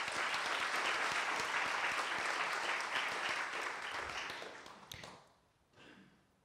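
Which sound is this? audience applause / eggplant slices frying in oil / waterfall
audience applause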